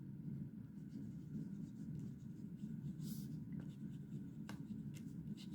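A Pelikan M400 Souverän fountain pen nib scratches faintly across paper while writing, a soft continuous rasp with a few small taps, low and close under a steady room rumble.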